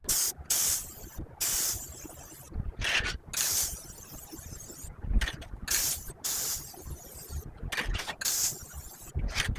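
Aerosol satin spray paint in Canyon Green coats primitive wooden pieces in repeated loud, hissing bursts of a second or so, broken by short silent pauses and faint can clicks.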